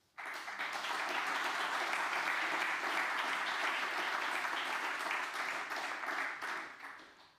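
Steady, full applause from an audience at a panel discussion on the Swiss limitation initiative, swelling quickly and holding for several seconds before tapering off, with no talk over it.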